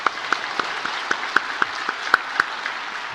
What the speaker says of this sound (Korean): 우리 큰 박수로 한번 축하하겠습니다